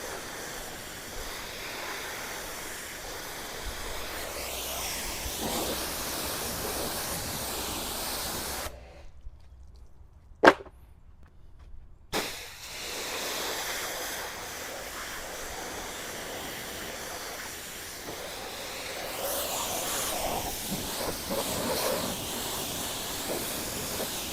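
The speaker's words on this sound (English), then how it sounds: "always rinse underneath the mat because they hold soap in there." A pressure washer or hose rinses a Toyota Corolla floor mat during a detail, producing a loud, steady spray hiss that stops for a few seconds midway and then resumes.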